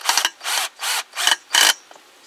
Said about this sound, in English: So now we're just using the drill,